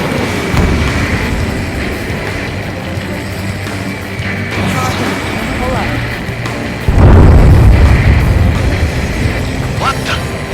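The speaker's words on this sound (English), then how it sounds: "A huge explosion just went off underwater." A huge underwater explosion goes off in the Ace Combat 7 video game while the XFA-27 aircraft flies. A deep, heavy boom swells partway through over continuous loud rumbling game noise.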